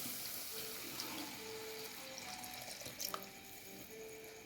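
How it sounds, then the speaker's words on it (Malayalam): Coconut milk from half a coconut is poured into a simmering Kerala-style vaala fish curry, a faint, steady liquid trickle with soft drips in a quiet kitchen. "ഇനി ഒരു അരമുറി തേങ്ങയുടെ പാല് ഞാൻ എടുത്ത് വെച്ചിട്ടുണ്ട്. അത് ഇതിലോട്ട് ഒഴിക്കാം."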